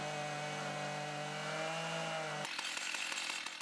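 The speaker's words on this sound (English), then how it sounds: "One operator used the chainsaw together with a winch." A chainsaw cutting a log with a winch setup in Denmark: a steady, loud engine drone runs for a couple of seconds, then turns into a rougher, crackling rasp as the chain bites into the wood.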